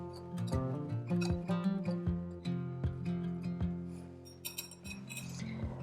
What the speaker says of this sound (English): we're just going to whisk those to go ahead and combine well